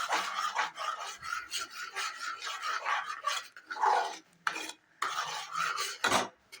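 Barnyard millet for a fasting kheer is sautéed in a pan, a spoon scraping and stirring in quick, uneven strokes with repeated rasping bursts and brief pauses, close and fairly loud, with no talking.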